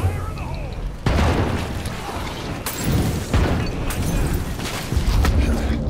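Bomb explosions in the video game State of Decay 2, a few heavy booming blasts with rumbling, crackling debris, mixed with game noise and someone talking.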